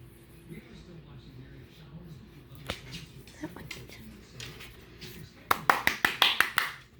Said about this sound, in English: I was just clapping because they look so great